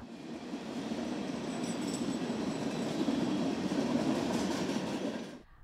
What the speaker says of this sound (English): the sound of the passing trains